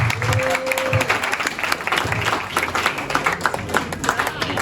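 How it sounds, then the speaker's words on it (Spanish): An audience applauds the young authors of a Colombian short-story anthology at a reading event, dense sustained clapping from a crowd throughout, with a brief voice near the start. "Vamos a darle un aplauso entonces a Jerónimo Montoya, Jerónimo Yepes y Tomás."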